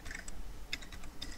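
Quick keystrokes on a computer keyboard type a short note, close and crisp, in a brief irregular run of clicks.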